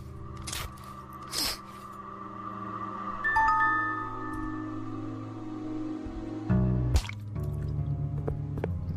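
Wet squishing and dripping cuts as a teddy bear's limbs are chopped off in the horror video game The Witches House, a few sharp bursts over low ambient drones.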